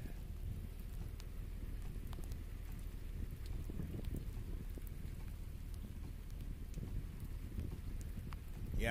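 Steady rain falls during a storm under a rotating wall cloud, a dense continuous outdoor wash with low rumbling wind noise and no clear voices.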